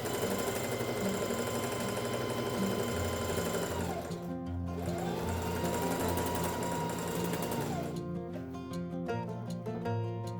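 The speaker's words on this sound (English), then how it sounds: "Just finished sewing all of those scraps together." A sewing machine stitches fabric scraps together in fast, steady mechanical bursts, close and loud, pausing briefly and speeding up again, with no talking.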